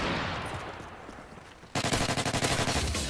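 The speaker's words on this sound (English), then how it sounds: "Sniper shot all the way across the map." Sniper rifle gunfire from Modern Warfare 3, heard as a rapid burst of loud, close, evenly spaced shots cutting in sharply after a stretch of softer fading noise.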